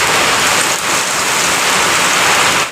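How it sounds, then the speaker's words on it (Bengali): Steady, loud rainfall pouring down on surfaces nearby, a dense continuous hiss of drops with no voices over it. "বৃষ্টি হচ্ছে"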